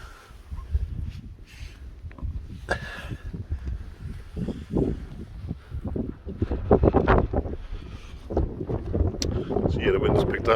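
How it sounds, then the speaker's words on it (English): Strong gusting wind of 40 mph plus buffets a wet nylon Lanshan tent pitched with pegs, a loud roaring rush with flapping surges that build and swell toward the end, close to the microphone. "It's pretty windy"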